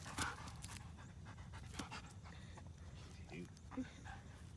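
Dogs let out onto open pasture pant rapidly and steadily nearby, with scuffling movement and a brief voice at the start; no clear barks stand out.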